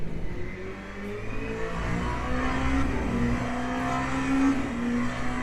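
A Porsche race car engine in the Le Mans Ultimate racing game, a steady mid-level drone with rising and falling pitch, heard alone and without voices.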